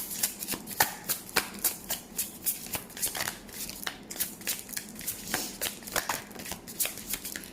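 Tarot cards shuffled by hand in a steady rhythm of crisp riffling flicks, repeated many times, close and moderately loud.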